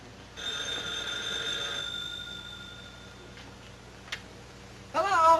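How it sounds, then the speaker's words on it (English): An old 1940s telephone bell rings in a home, one long ringing burst, then a quiet pause with a faint tick before a second ring begins at the end. No speech. "Dagwood, the phone"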